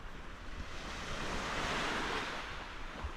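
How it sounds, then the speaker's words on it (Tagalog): Steady roar of surf and strong northeast monsoon wind, a broad continuous wash of big waves that swells slightly in the middle, with low rumbling gusts and no talking. "Sa labas, grabing alon."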